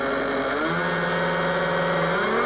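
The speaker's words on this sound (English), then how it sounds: "It's powered by 2 45 engines," A large model F-15 jet prototype powered by two K&B .45 engines runs at a steady, loud buzzing pitch with rich harmonics, one tone sliding slightly as the engines hold a constant drone.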